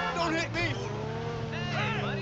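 A fast car in GTA V roars with a continuous engine drone and shifting whine, heard close and loud while someone talks over it throughout.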